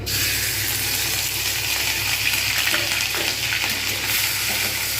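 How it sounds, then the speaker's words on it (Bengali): Onion paste fries with nigella seeds in a pan for potol dolma, making a dense, continuous sizzle close to the mic with faint scraping of stirring underneath. "এবার এতে দেবো পেঁয়াজ বাটা,"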